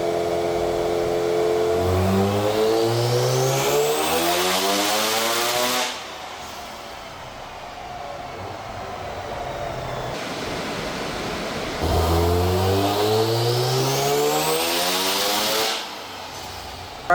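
A Mazda RX-7 FD rotary engine runs on a dyno during power pulls, sweeping loudly upward in pitch through the gears twice, each pull followed by a lower idling drone.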